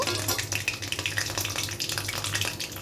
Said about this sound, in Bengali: ফোড়নটা একটু তেলে নেড়ে নেব।